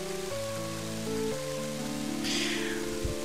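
In the video game Mother 3, rain hisses evenly under a stepping chiptune tune, with a brighter splash of noise near the end followed by a low thump.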